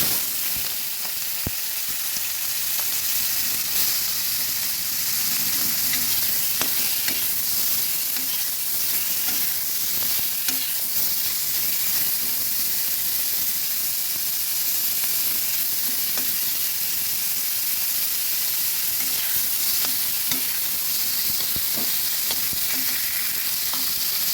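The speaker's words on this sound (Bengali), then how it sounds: "এদিকে কড়াইতে তেল দিয়েছি, তেলও গরম হয়ে গেছে। এবার দিয়ে দেব চিংড়ি মাছগুলো।" Salted, turmeric-coated prawns fry in hot oil in a wok, giving a loud, continuous close-up sizzle with crackling pops and occasional stirring scrapes throughout, with no talking.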